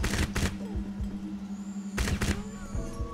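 Gunshots in the shooter game Crysis, fired in two separate short bursts of rapid, sharp reports with single scattered shots between them, loud and close over a steady low hum.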